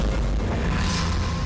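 Volcán de Fuego in Guatemala erupting, a loud, deep rumbling blast that fills the short clip with heavy low boom and roar.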